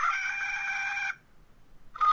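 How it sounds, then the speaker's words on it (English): A rooster crows in a Star Wars trailer, one sustained loud cock-a-doodle-doo that breaks off, followed by a short quiet gap and the start of another crow. "that's a rooster"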